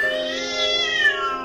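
A cartoonish cat meows in a long, drawn-out wail with rising and falling pitch in the game Cat President, continuous and clear over a quiet background.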